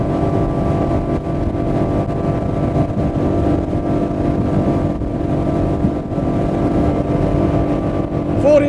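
A Dromeas 28CC motorboat runs flat out at about 40 knots, a steady loud engine drone mixed with rushing water and wind buffeting the microphone, continuous throughout with no pauses.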